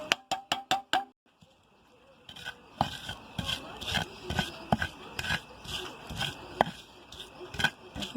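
Potatoes are mashed into a bhorta with onion and salt on a clay grinding stone: a quick run of sharp clicks, a short pause, then repeated close, rough scraping and grinding strokes at an uneven rhythm.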